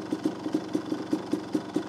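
A small motocross motorcycle engine, a CR, idles close by with a steady, lumpy putter, its rhythmic pulses repeating about every quarter second.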